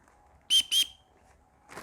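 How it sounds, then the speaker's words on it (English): A small emergency whistle tied onto a bird-hunting carry kit gives two short, shrill tweets in quick succession, close and clear, followed by a soft rustle. "I tied in a little emergency whistle so I can tweet"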